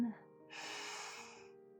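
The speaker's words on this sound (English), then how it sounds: "One final big breath in" A calm guided big breath in during a mindful drawing session, one slow audible inhale lasting about a second, close and soft, following a brief voiced sound.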